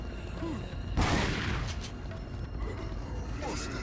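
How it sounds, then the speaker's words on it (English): Gunfire aimed at ganados in Resident Evil 4: one sharp, loud shot bursts out early, followed by fainter cracks against a busy background rumble. "now we're going to shoot these ganados just so we can create a passage"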